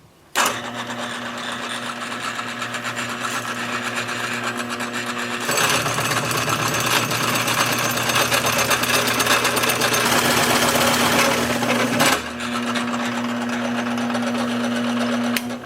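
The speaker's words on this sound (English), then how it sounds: "I'm just going to drill a shallow hole" A power drill whirs steadily at close range while boring a shallow hole in wood, its pitch rising and straining for several seconds mid-way before settling back, with no talking.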